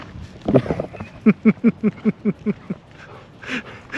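Dogs whimper in a quick run of about ten short, evenly spaced whines, close and fairly loud, with brief voices and other noises before and after.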